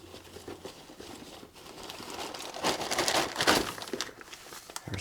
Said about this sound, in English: There's just a plastic bag inside,